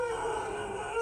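Dogs howl at a dairy farm, a single drawn-out, wavering tonal cry heard briefly at moderate distance with no talking over it.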